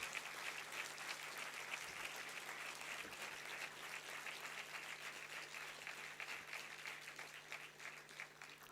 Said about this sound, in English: give our heroes a good round of applause for all their hard work